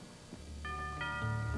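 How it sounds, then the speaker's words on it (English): A doorbell chimes at a front door in a home, two or three soft ringing tones rising one after another, heard alone with no talk over them. "the bell, miss. Don't you wish me to open the door?"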